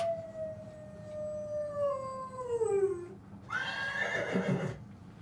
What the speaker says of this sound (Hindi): कभी कभी कुत्तों की आवाज और घोड़ों की हिनहिनाहट इस सन्नाटे को चीर देती है।